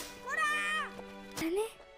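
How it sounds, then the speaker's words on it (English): An anime cat's drawn-out meow, then a second shorter rising mew, close and fairly loud over a steady background hum. "Some kind of poor cat?"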